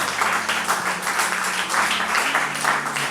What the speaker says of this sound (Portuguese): Alguém pode bater palmas para o Senhor por isso?